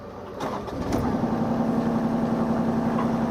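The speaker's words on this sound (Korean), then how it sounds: "엔진 소리 깨끗합니다." A used Kubota U-30 three-ton mini excavator engine cranks and catches, then settles into a steady, even diesel idle with a constant low hum.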